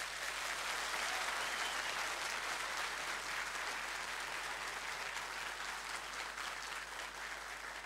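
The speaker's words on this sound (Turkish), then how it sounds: "folklor ekibi için geldi alkışlarımız" A studio audience gives steady, even applause for a folk dance team at a televised regional show in Çankırı Kurşunlu, continuous clapping for several seconds.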